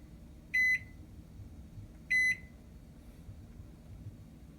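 Two sharp electronic beeps from the control panel buttons of a Toshiba ML-EM34P(SS) countertop microwave, spaced about a second and a half apart, loud and close over a low room hum.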